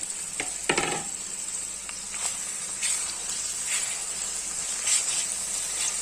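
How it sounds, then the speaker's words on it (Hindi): Mutton mince dropped into lightly browned onions in a pan, a soft continuous sizzle with scattered crackles and a few louder stirring scrapes and spits. "अब ये प्याज को हमने हल्का सा ब्राउन कर लिया। अब इसके अंदर हम शामिल कर देंगे मटर मीन्स।"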